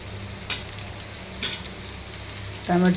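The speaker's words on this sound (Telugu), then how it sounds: "ఇప్పుడు దోసకాయలు కూడా వేసేస్తున్నాం." Cucumbers frying in a hot pan, a soft steady sizzle with a few quick scrapes and a brief louder clatter at the end, and no voices.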